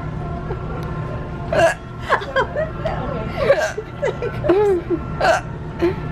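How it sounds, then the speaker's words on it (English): Repeated sharp hiccups breaking up bursts of laughter, several spaced spasms over about six seconds, close and fairly loud against a steady low background hum. "Why is it that you always get the hiccups when you laugh?"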